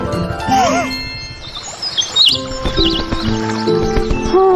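Rhythmic cartoon horse hoof clip-clops with jingling bells in Upin & Ipin, set against chirping birds and a cartoonish musical backdrop, steady and fairly loud.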